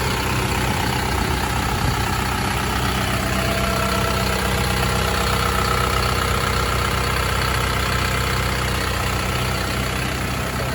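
Diesel 5.2-litre four-cylinder engine of a 2018 Isuzu FTR flatbed truck idling with the cab tilted open, a loud, steady, close rumble and clatter that runs unchanged throughout.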